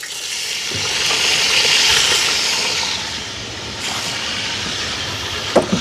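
Cleaned, cut dried nagarai fish dropped into hot oil: a broad, loud hiss that swells, eases off, then rises again, with a couple of sharp pops near the end and no talking.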